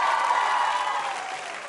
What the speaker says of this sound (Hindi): तालियां मेरे लिए भी बजा सकते हैं, इस जानकारी के लिए भी बजा सकते हैं